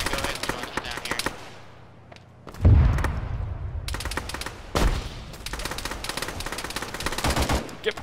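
Rapid bursts of automatic gunfire crackle through a tactical military shooter match, dense volleys with brief pauses and a couple of heavier booming shots; voices talk faintly underneath.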